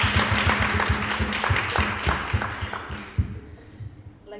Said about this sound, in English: let's give her dad a clap